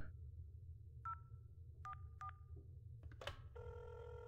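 A telephone in the game INFRA is dialed with a few short, separate keypad beeps, followed by a clearer, sustained ringing tone on the line, all fairly quiet over a low background hum.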